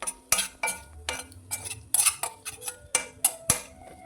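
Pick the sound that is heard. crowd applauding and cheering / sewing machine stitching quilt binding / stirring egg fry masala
stirring egg fry masala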